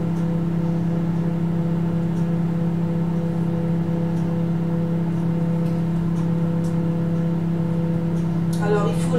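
A microwave oven runs to melt chocolate for a chocolate cream dessert, a steady low electrical hum that continues unbroken for several seconds, ending with a brief clatter.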